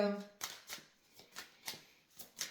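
Tarot cards are shuffled by hand in a quick run of crisp riffling flicks, about seven evenly spaced bursts, close and fairly soft.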